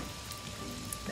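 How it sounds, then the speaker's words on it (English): Heavy rain in the video game Wuppo patters steadily on surfaces, a soft, even drizzle of drops heard alone at low volume. "Oh man, it's raining hella hard."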